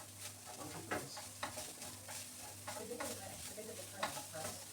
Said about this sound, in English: So I'm going to add in my garlic.